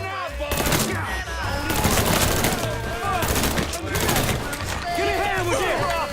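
Sustained automatic gunfire in Mafia 3, rapid rattling bursts running nearly nonstop at close range and loud, with splintering impacts and shouted voices mixed into the din.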